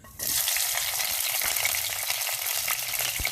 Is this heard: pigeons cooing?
no